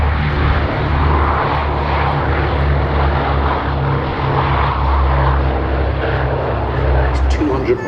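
Warbird fighter planes flying at the Sywell airshow, a sustained loud propeller-engine drone with a steady low hum throughout, while a voice talks over it.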